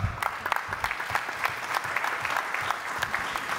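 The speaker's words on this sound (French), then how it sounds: "Je leur dirai que vous les avez applaudis" A conference audience applauds steadily, many hands clapping in a dense, even patter that holds at a moderate level throughout.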